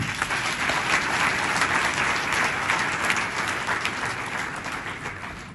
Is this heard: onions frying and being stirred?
no